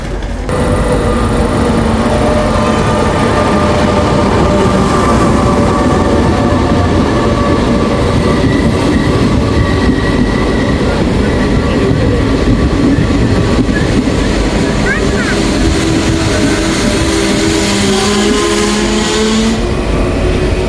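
A train between Venice and Bologna, Italy, rumbles steadily along the rails from start to finish, a loud continuous roar with rattling and faint squeals.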